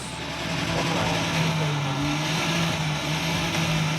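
Steady idle of a Porsche 911 Coupe 2.0 engine heard up close indoors at a museum, a continuous low hum with a faint rising note, under background crowd noise.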